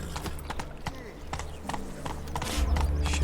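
Horse hooves trot in The Witcher 3 with a brisk, even clip-clop close by over a low rumble, while a voice speaks briefly.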